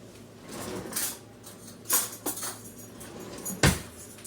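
Metal kitchen utensils clatter and clink as they are pulled from a drawer, a few sharp separate bursts with a louder rattle near the end, close by and with no talking.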